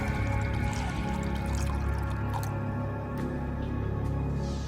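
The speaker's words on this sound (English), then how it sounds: "The magician pours the water into the mug." Water pours into a mug during a magic trick, a continuous trickling, dripping stream close by with steady background music underneath; no talking.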